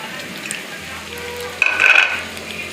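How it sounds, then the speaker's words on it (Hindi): Boiled chicken and chopped cabbage fry in hot ghee with a soft, steady sizzle, then a brief louder burst of hissing and stirring that fades back. No one speaks. "तो इसी के साथ हम इसमें बंद गोभी जो हमने काटी थी उसको ऐड कर देंगे।"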